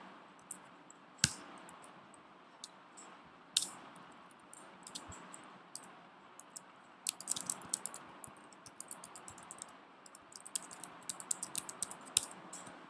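Computer keyboard typing while entering MATLAB code, faint irregular key clicks in scattered bursts and quick runs, with a couple of sharper louder taps, no speech.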